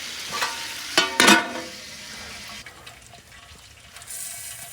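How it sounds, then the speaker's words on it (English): Pork pieces frying in lard in a pan, with a few sharp pops and crackles early on over a steady, soft sizzle. "because you hear it popping, I know it's beginning to fry and not just stew."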